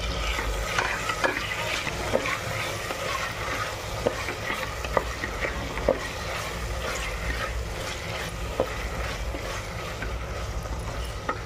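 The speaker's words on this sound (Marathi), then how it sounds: "आता मी बटाटे टाकून घेते." Potatoes go into a pan of frying vegetables for a cashew curry, bringing a steady sizzle broken by scraping stirs and spoon clinks against the pan, all close and without speech.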